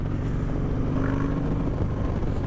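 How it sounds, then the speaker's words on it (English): Motorcycle engine with an S&S 2-in-1 exhaust and Redshift cam, roaring at steady high revs: a loud, continuous, deep rumbling drone close by, with no pauses. "Listen to that bloody engine. That's that S&S 2-in-1 screaming."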